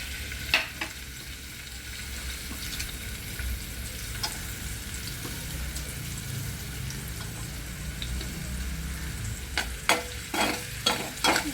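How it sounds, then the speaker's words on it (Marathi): Onion frying in a pan for matar aloo sabzi, a continuous close sizzle with occasional sharp scraping stirs and clinks of the spoon, growing more frequent toward the end. "आता आपण ह्याच्या पॅनमध्ये कांदा टाकतो आहोत"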